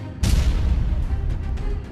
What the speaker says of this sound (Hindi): तेज धमाकों से दहला मध्य प्रदेश।